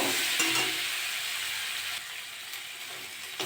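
Shrimp with Malabar spinach, potato and pumpkin, seasoned with chili powder, is sautéed in a pan. A close, dense sizzling hiss holds steady, with a few faint scraping stirs.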